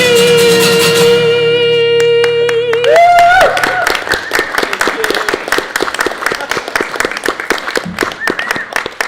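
Audience applauding at the end of a folk song in a live performance, as a sustained held note fades and a dense burst of clapping and crowd noise swells in, close and loud.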